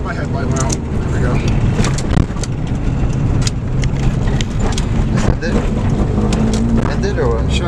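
A car rolls along on freshly replaced CV axles, its engine and road noise a steady, close rumble throughout while people talk over it inside the cabin.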